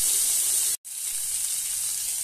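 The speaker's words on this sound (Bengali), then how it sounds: "টমেটো বাটা দিচ্ছি" Tomato paste fries in hot oil in a wok for an aloo dum with ground cabbage. The broad, loud hiss and sizzle drops out completely for a split second and then returns steady.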